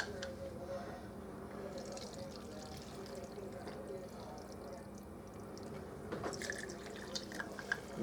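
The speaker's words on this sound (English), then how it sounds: "then I'm going to add the hot water to it." Hot water being poured in a thin stream into cake batter ingredients, quiet and close, with a louder splash near the end.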